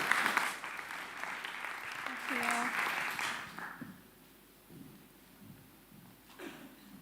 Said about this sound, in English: So a warm welcome applause for Suze.